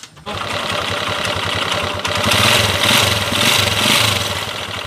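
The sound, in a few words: rebuilt motorcycle engine running after repair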